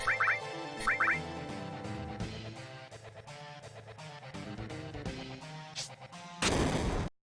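Grenade attack in the Final Fantasy VII battle system on PC, rendered as game audio: music with sharp percussive hits and blips, ending in a loud burst of noise like an explosion.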